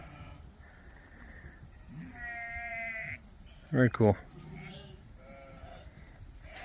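Romanov sheep bleat on a farm with over a thousand animals, several wavering calls followed by a loud close bleat, over steady outdoor hiss, while a person briefly speaks.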